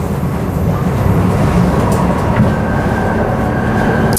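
Loud, steady rumble of a passenger train descending into the airport line tunnels on the Perth rail network, heard from inside the carriage as a continuous dense roar with faint high whine, no voices.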